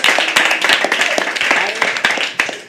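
A crowd claps at a live Hindi poetry recital, with sharp, irregular hand claps ringing out near and loud over a continuous murmur of voices.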